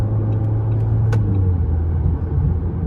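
Low, steady road rumble with a deep engine hum heard from inside a 2025 RAM Rampage R/T 2.0 turbo on a highway, as another vehicle approaches; one brief sharp click cuts through midway.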